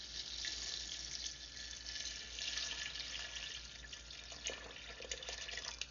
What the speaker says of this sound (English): you add water to cover it by like an inch or two